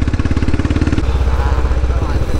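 A Royal Enfield Bullet Classic 500 motorcycle with a long Punjab silencer putters close by with a rapid, uneven rumbling, crackling pulse from the exhaust, while someone talks over it.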